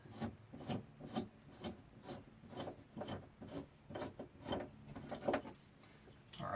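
An old RV shower head holder being unscrewed and pulled off, giving a run of rhythmic rubbing, scraping squeaks close by, roughly a dozen strokes in steady succession with no talking.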